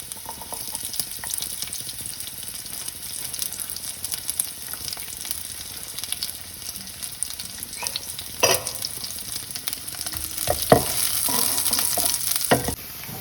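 Shallots sizzle and crackle in hot oil after mustard seeds have popped, with the scrape of a spoon stirring now and then; close, steady and without speech.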